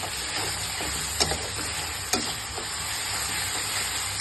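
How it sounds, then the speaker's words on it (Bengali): Masala paste sizzles softly in mustard oil while being sautéed for mustard hilsa curry, with a couple of sharp stirring clicks from a utensil against the pan. "এখন মশলাটা আমি খুব ভালোভাবে কষিয়ে নিব"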